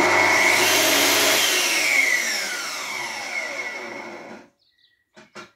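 A Festool TS55 REBQ plunge saw runs loudly and close, its whine winding down quickly as the electronic brake stops the blade, followed by near silence and a few light knocks.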